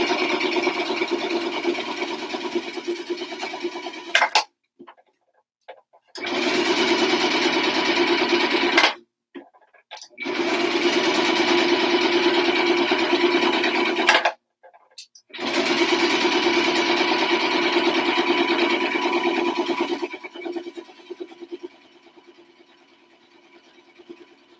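A sewing machine stitches a saddle pad seam in three long runs of steady, fast whirring separated by short pauses, loud and close, before stopping near the end.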